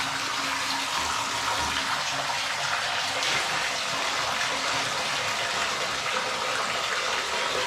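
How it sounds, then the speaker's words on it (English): Shower water runs steadily from the showerhead, a continuous hissing spray at moderate level with no talking. "So then this controls where the water comes out."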